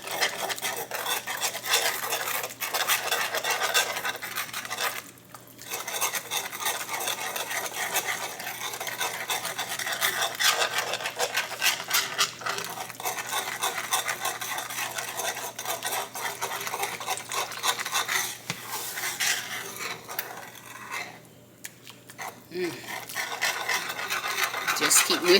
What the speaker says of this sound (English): Just keep whisking till you get it all mixed up together.